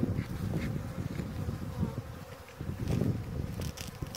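A dense, continuous buzzing of many honeybees close by at a beehive, wavering in loudness with no voices present.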